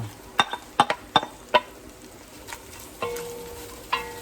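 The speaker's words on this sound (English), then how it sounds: "we should hear a nice sizzle as we do" Onions and celery sizzle softly in grease in a pan while a wooden spoon knocks and scrapes several times against the cookware in short, uneven clacks.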